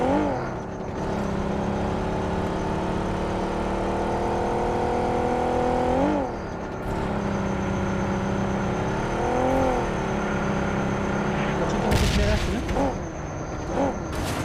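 A car engine drones in a video game, a steady humming tone that rises and falls as it revs and shifts, with voices chatting over it and a few sharp bursts near the end.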